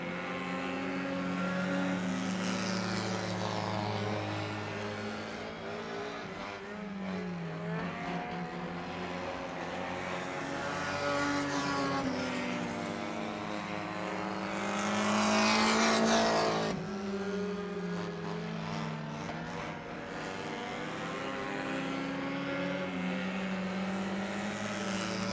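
4-cylinder street stock race cars roar around an oval track at a Top Dog Street Stock Series feature, a steady loud engine drone with pitch sweeping as cars pass, swelling louder midway as the pack goes by close.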